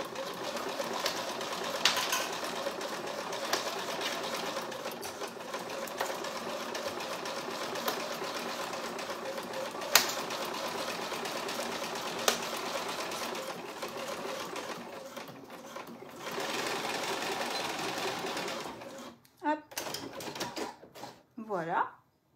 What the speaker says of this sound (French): Et je démarre, donc je pique dans mon premier repli, d'accord, et sur toute la longueur.